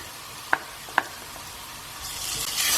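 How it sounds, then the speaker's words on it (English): Ginger garlic paste hitting softened, translucent onions in a hot pan for an Indian dhal and spinach curry, two sharp taps of a utensil followed by a rising, bright sizzle that swells near the end, close and without speech. "It's time now to add the ginger and garlic paste."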